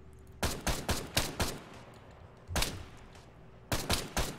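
Sniper rifles in the Halo OPTRE video game fire in rapid bursts of sharp, loud cracks, with a cluster of five shots, a lone shot after a pause, then three more, each over a steady background hum.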